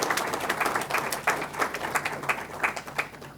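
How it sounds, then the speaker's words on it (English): An audience at a business conference on sourcing products from India breaks into sustained applause, a dense, steady patter of many hands clapping with no speech over it. "I think they deserve a huge round of applause."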